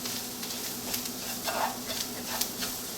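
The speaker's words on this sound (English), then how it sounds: "We're just going to give these spices a quick whirl around the pan." Spices sizzle in a hot pan while being stirred, a soft continuous crackle with scraping strokes of a utensil rising and falling over a few seconds, no voices.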